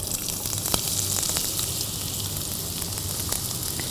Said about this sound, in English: Now in this ghee, let's add in onions.